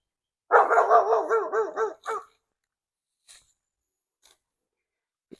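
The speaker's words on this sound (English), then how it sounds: "Neighbor's dog. Right there." A neighbor's dog barks in a rapid burst of about six or seven yelps, then falls quiet apart from a few faint rustles and a soft tap, on a briar-covered property.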